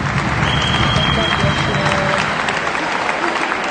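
Crowd applause fills a basketball gym during a Serie D Sicilia final game as an injured, limping player leaves the court, steady and loud clapping throughout with a brief whistle-like tone early on.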